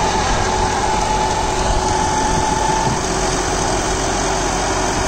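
A John Deere 5075E AC cabin tractor's diesel engine runs steadily and loudly at close range during PTO work for banana mulching. A constant rumble and a faint whine continue without pause.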